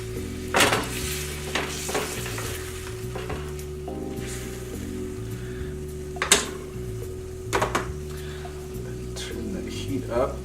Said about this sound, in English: now we're gonna deglaze the pan with our sauce